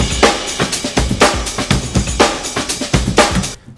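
Punchy, layered big beat drum break loop with sharp kicks and snares repeating in a tight, busy rhythm, loud and upfront, ending abruptly.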